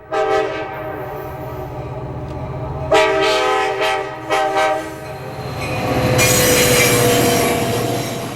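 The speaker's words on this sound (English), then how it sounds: "An Amtrak passenger train makes short work of a stretch of straight track" An Amtrak passenger train rushes past close by on straight track, its horn blaring in harmonic blasts while wheels squeal and rumble, building into a broad roar of rushing cars.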